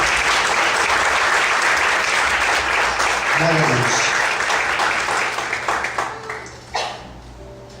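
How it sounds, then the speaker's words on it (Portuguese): A church congregation applauds during a morning service, loud sustained clapping that fades out near the end, while a voice speaks briefly over it. "Vamos aplaudir com alegria ao Senhor nesta manhã."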